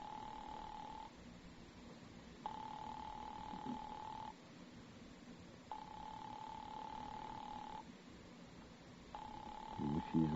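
A telephone rings unanswered, with repeated steady buzzing rings separated by regular pauses on a line that stays open, carrying on for several cycles.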